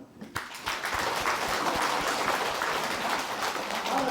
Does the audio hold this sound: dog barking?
no